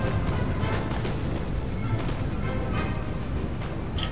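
Dense musket and artillery fire from a Napoleon: Total War battle rumbles without pause, with loud booms and crackling volleys blending into a constant roar.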